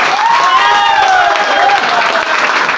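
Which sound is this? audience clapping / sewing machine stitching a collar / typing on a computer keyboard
audience clapping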